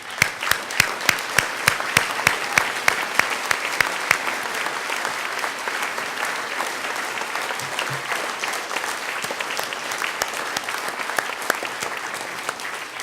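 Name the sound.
audience applause for CSPI alumni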